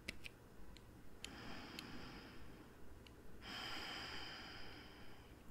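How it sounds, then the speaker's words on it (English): A slow, deep breath drawn in and then let out, soft and close against a faint steady hiss, with a few light ticks scattered around it. "Now go ahead and just take a deep breath in."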